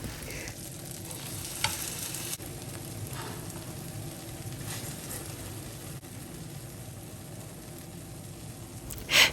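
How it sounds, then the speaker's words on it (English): Eggs frying in olive oil in a frying pan give a quiet, steady sizzle with faint crackles, a few soft utensil scrapes and a louder clatter at the very end, with no speech. "So in my frying pan, I'm going to add about a teaspoonful of olive oil and I'm going to go ahead and fry my eggs"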